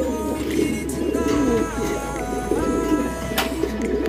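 Racing pigeons coo in low, rolling calls close by over a steady low hum, with brief higher whistling tones and scattered clicks.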